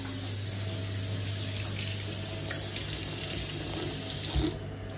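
Tap water runs steadily into a kitchen sink to wash mushrooms, a constant close hiss and splash with a brief louder splatter near the end and no talk.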